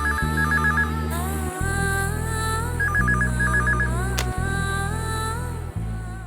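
A telephone rings continuously, a loud electronic ringtone with repeating warbling tone patterns, no voices over it.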